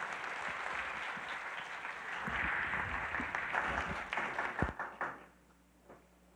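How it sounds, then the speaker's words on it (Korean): A church congregation applauds in a blessing, a broad wash of many hands clapping that swells, then trails off into scattered claps and quiet room tone. "큰 박수로 한 번 더 축복해 주시기 바랍니다."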